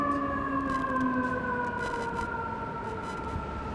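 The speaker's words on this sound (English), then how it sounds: "It's fire trucks, 2 fire trucks heading downtown." Sirens of several fire trucks heading downtown wail in a long, slowly falling tone, heard from a distance over steady traffic noise.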